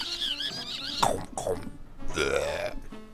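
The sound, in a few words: fake burp imitated by voice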